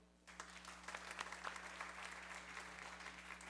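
A congregation at a Sunday church service breaks into applause, a sudden burst of clapping that starts after a quiet moment and holds steady, with a low steady hum underneath.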